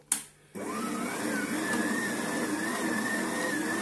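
A dough kneading machine starts up after a brief clatter and runs with a steady, loud whirring hum while mixing whole-wheat semolina bread dough.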